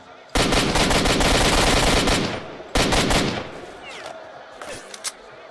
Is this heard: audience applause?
no